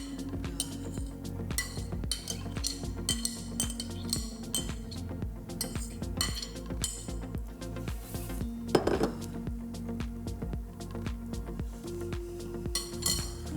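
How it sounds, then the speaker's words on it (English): Salsa scooped into a serving bowl with a utensil, producing repeated close clinks and scrapes of metal against the dish in an irregular rhythm, with no talking. "So we'll pop that into a serving bowl."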